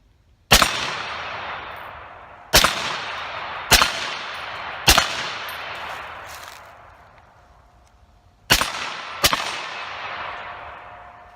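Six sharp gunshots from 147 grain brass ammunition, loud and close, fired at irregular intervals with each crack followed by a long ringing decay; two come in quick succession near the end.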